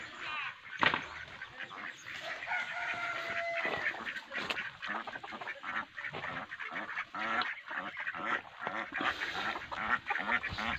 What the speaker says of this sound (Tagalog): Ganda pala dito mag-alaga ng mga ganitong itik.